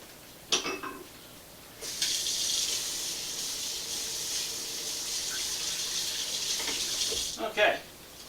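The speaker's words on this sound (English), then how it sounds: "Okay, so I just rinsed off my spoon." Water from a kitchen tap runs steadily for about five seconds while a spoon used for ricotta is rinsed, with brief clatters before and after the flow.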